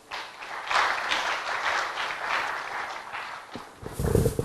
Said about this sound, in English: Another round of applause for the Minister for Transport, Mr. Kweku Ofori-Isiamah